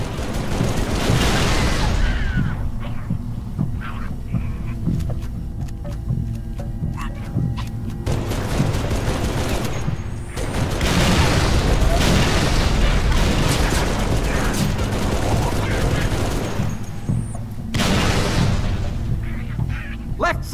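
Heavy firefight in Halo 3 ODST: loud sustained bursts of gunfire and booming explosions in waves, easing briefly around the midpoint before surging again, with shouted soldier voices mixed in.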